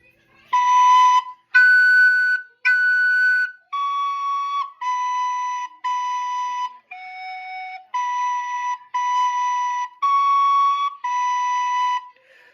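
A soprano recorder plays a melody slowly, about eleven separate, evenly spaced notes, clear and close, each held briefly with short gaps between.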